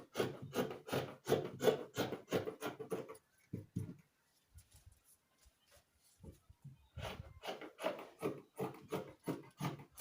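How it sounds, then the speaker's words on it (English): Scissors trim excess lace fabric while a flowing dress with puff sleeves is cut, giving close, rhythmic rasping snips in two steady runs with a sparse pause between them. "So I'll just trim off the excesses I'm having"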